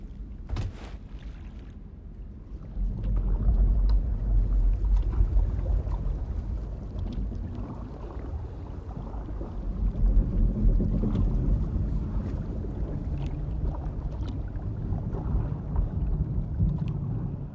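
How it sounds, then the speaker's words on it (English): Wooden boat drifting through a stormy dark sea in Baldur's Gate 3, a steady low rumble of water and wind with rolling swells and scattered creaks and drips, no voices. "There we go. Sailing to safety."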